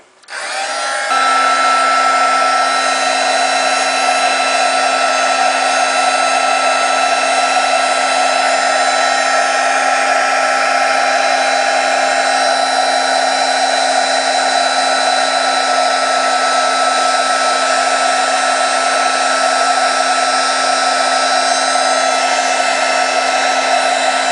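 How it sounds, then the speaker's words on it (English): A heat embossing gun runs steadily for the whole stretch, a loud, constant whirring blower hum with an airy hiss and a fixed tonal whine, close to the mic and uninterrupted. "then you'll see the heat embossing in action"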